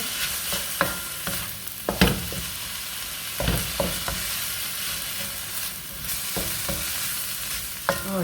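Vegetables hit a hot pan with browned ground turkey for an egg roll filling, giving a steady close sizzle broken by repeated scraping stirs of a utensil across the pan.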